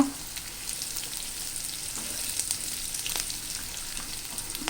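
Peanuts sizzling in hot oil for a carrot and peanut curry, a steady close crackling fry with a few brief stirring clicks and no talking.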